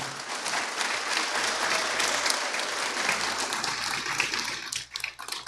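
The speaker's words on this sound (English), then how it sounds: "let's give all of our candidates a big round of applause" Sustained applause from a debate audience for the candidates at a San Antonio mayoral debate, a dense steady wash of many hands clapping that holds at full strength before thinning out near the end.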